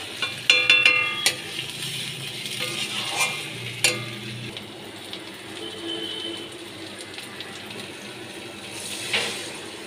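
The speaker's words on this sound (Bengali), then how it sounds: "ডিম দিয়েও ভালো করে আমি কষিয়ে নেব।" Eggs stirred and fried in a pan with spiced masala, a steady close-up sizzle broken by sharp clinks and scrapes of a spatula against the metal, busiest in the first few seconds.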